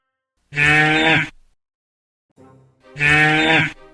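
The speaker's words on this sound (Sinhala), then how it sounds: "කුලප්පු වෙච්ච හරකෙක් නේද?" A cow moos loudly twice in a Sinhala-dubbed cartoon, two long drawn-out bellows separated by a short softer low grunt, each one close and clear.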